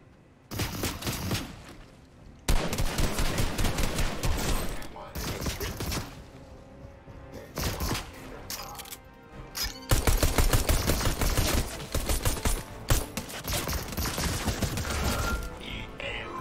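Rapid bursts of automatic gunfire in the video game Fortnite, loud clustered volleys stopping and restarting, with brief quieter gaps and a voice talking in between.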